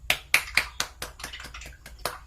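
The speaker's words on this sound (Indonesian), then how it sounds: "Berikan tepuk tangan buat kelompok 4" A small group at a church gathering claps for the presenters of group 4, a quick series of about nine sharp, fairly even hand claps, close and distinct, with no talking.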